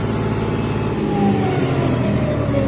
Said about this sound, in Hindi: ये मैंने फुल रेस करी है। 2100 से थोड़ा ज्यादा ही जा रहा है, 2200 पे जा रहा है।